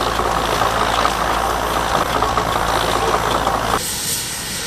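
A Versatile tractor engine runs as it pulls a cultivator across a field worked by a cable ploughing engine, a loud, steady rumbling drone with hiss that drops sharply near the end, with no one speaking.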